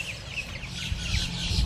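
A flock of birds squawks and clucks together along the Anhinga Trail in Everglades National Park, a dense, continuous chorus of overlapping calls at moderate loudness.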